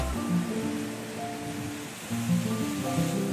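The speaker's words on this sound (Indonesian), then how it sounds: "Nah, lumayan ombak." Sea waves breaking at Tanjung Otepusu, a steady broad wash of surf that swells and eases, with faint tonal sounds sitting over the noise.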